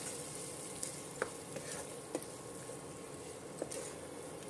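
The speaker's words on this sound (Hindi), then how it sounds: "डाल के इसको भी हम मसालों के साथ अच्छे से पका लेंगे 1 से 2 मिनट" Boneless chicken cooking with spices in a pan for a gravy, making a faint, steady sizzle with a few light scrapes and taps from stirring.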